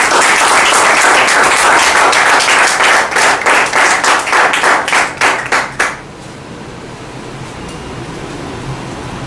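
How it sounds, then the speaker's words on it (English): An audience at a speaking meeting claps to welcome a speaker, loud applause that turns into a few rhythmic unison claps and then stops suddenly, leaving the quiet hum of a room. "please put your hands together and be a little generous and applaud friends today"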